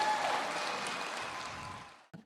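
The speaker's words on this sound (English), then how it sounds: "How about a round of applause for George?" Brief round of audience applause at a lecture, a dense wash of clapping that gradually fades over about two seconds before cutting off.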